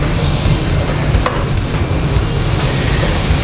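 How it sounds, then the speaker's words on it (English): Food sautés in a hot pan with hickory seasoning, giving a loud, steady hiss and rumble of sizzling and stirring that carries on without a break. "so you just want to give that a quick saute"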